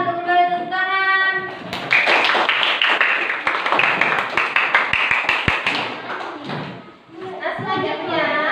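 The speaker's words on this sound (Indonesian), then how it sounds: "silakan kembali tepuk tangan" Schoolchildren clap their hands together in a classroom, a dense burst of many sharp claps lasting several seconds, with voices before and after.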